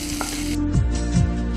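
Green chilli slits frying in a pan for chilli soya, a steady close sizzle with a couple of brief stirring scrapes.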